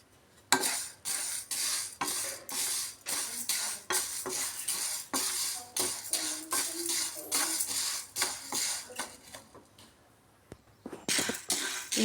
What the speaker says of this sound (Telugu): ఈ విధంగా బ్రౌన్ కలర్ వచ్చిందాక వేయించుకోవాలి.